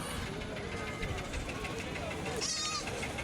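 Goats bleat amid the busy crowd noise of the Melapalayam goat market, with constant chatter and a distant engine hum beneath. A clear bleat rises near the end.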